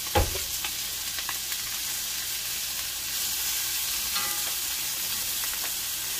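Two tablespoons of butter melt in a pan on the stove, giving a steady low sizzle with occasional light scraping and clinks from stirring, continuing evenly for several seconds with no talking.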